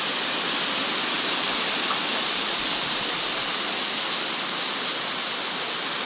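Dense, steady hiss of heavy rain pouring without letup during a typhoon in the Philippines, a constant wash of noise with no voices or breaks.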